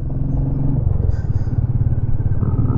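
A motorcycle engine drones steadily at close range on a road near Mannavanur Lake, Kodaikanal, with a low rumbling throb and some rattling clatter as it rides along.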